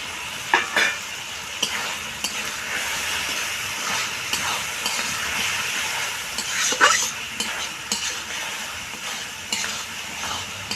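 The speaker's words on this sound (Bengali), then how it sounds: "এবার আমি ভেজে রাখা আলুগুলো দিয়ে কিছুক্ষণ কষিয়ে নেব।" Fried potatoes are stirred in hot oil and spice masala in a pan, sizzling and hissing steadily up close, with occasional scraping clatters of the spoon and no talking.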